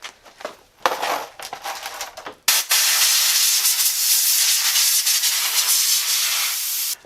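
A compressed-air airline blasts grime off a pit bike chain: a few short bursts first, then one loud, steady, close hissing jet that runs for several seconds before cutting off abruptly.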